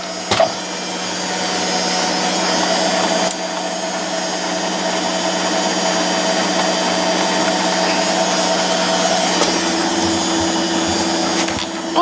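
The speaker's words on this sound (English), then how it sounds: "But listen to that motor." A used Vestal washer dryer's motor runs steadily at close range, a continuous whirring hum with a faint clatter near the start and a brief knock around the middle, with no speech.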